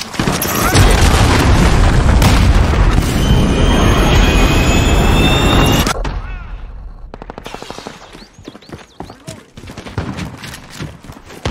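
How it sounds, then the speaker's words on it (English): An enemy cruise missile strike in Call of Duty: Modern Warfare multiplayer hits as a loud, sustained explosive roar for several seconds, then drops to scattered quieter gunfire and game effects. "Enemy cruise missile incoming!"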